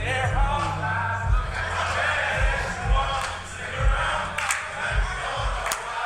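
A crowd cheering at a Chicago Bears preseason practice, swelling in repeated bursts of shouts and roars with dull thumps at regular intervals, fairly loud and close, with speech mixed in.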